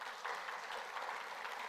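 A church congregation applauds at a leadership vision conference, a continuous, even wash of clapping from many people that lasts under two seconds, heard without talk.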